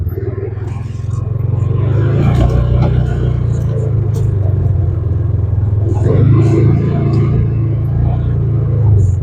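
A 2015 Polaris Ranger 570 UTV engine drones steadily while driving over rough ground, a loud, continuous low rumble that swells slightly at times and runs through the whole stretch.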